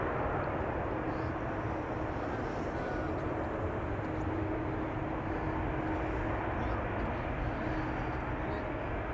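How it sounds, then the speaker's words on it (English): A United Boeing 777-200 arriving from Newark taxis toward a gate at Amsterdam Schiphol, its engines a steady, broad low rumble and whine that holds evenly throughout at moderate distance with no pauses. "United 777-200 arriving from Newark, finally able to go to a gate and unload the passengers"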